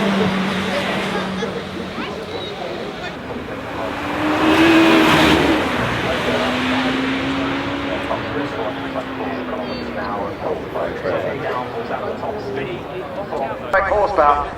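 Czinger 21C 3D-printed hybrid hypercar accelerates up the Goodwood hillclimb, its engine swelling and fading at a distance beneath crowd noise and ongoing commentary.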